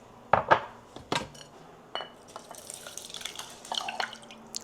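Chicken broth poured from a lifted pot, a few sharp clinks of the pot followed by light, scattered drips and trickles, close and quiet with no speech.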